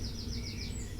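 Birdsong plays in the background of an Elite Dangerous Odyssey space game session, a run of quick repeated chirps over a steady low hum.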